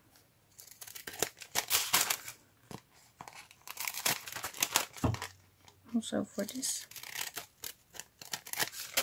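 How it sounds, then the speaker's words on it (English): Scissors snip and crinkle through tracing paper while a DIY paper bag is crafted, giving a run of sharp, close cuts and rustles, with a voice speaking briefly between them. "And then I use this pair of scissors."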